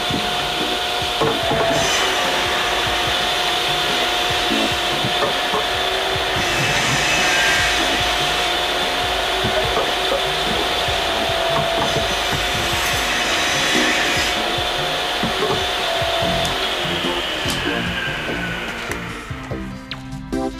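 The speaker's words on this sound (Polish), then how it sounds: "te nauszniki chronią tylko uszy przed hałasem, który robi piła" A power saw cuts through wooden boards nearby, a loud, continuous whining and rasping roar that holds steady for about twenty seconds before winding down at the end.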